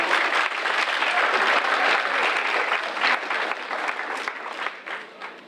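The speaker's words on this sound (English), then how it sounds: "You can clap for that." At a STEAM school graduation ceremony the audience claps steadily, a dense, even wash of many hands that slowly tapers off over a few seconds.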